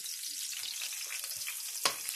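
Garlic hits hot oil with a soft, steady frying hiss and light crackle, close by and fairly quiet, topped by a single sharp clink near the end.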